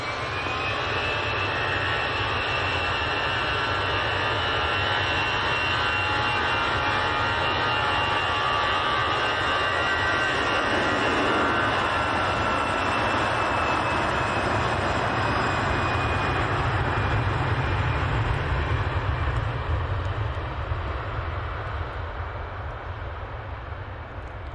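A Freebird Europe Turkish airliner jet taking off, its engines giving a loud, sustained roar that holds steady throughout with no talking.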